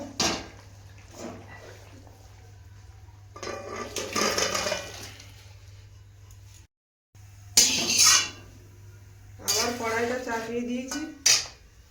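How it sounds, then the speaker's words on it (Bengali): Curry poured out of a cooking pot, with clattering metal pot and utensil knocks and scraping in bursts, loud and close, with a brief gap of silence midway. "এবার তরকারিটা ঢেলে নেবো"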